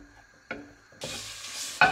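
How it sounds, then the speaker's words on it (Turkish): Minced meat sizzles in its own fat in a pot, a steady close frying hiss broken by sharp bursts as the mince is stirred, with no talking. "Kıymamız güzel kendi yağında kavrulmaya devam ediyor."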